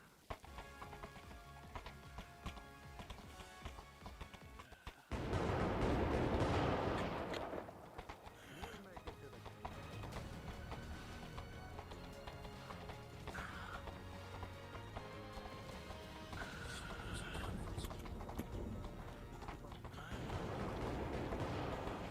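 Cannon fire during a battle in a fantasy war game, heavy booming blasts and rumbling bursts recurring at a distance, with a loud surge partway through and voices speaking over the barrage.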